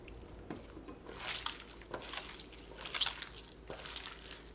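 Water trickling into a snack batter in a kitchen, soft intermittent pours and splashes with faint clinks, quiet and close.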